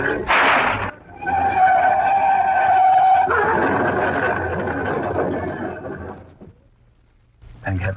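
Car tyres skid and screech as a car pulls away and drives off along a road in an old 1940s radio mystery drama, a loud engine sweep lasting several seconds before fading, with a brief burst of sound returning at the end.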